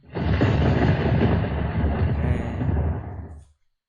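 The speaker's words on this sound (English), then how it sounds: "But we do hear thunder nearby." Thunder rolls nearby in a forest as one loud, deep, sustained rumble. It lasts about three and a half seconds before cutting off, with no voices over it.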